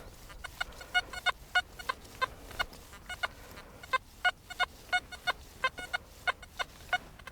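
A metal detector in coin deep mode at 7 kilohertz gives a choppy target tone: about twenty short, clipped beeps in an uneven stutter over several seconds, fairly faint above a low background hiss.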